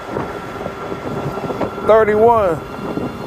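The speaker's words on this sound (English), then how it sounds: "It's a lot of wind." Wind buffets the microphone while riding a Revv1 electric bike on a trip to Venice Beach, a rumbling, gusting rush throughout, with someone briefly speaking over it.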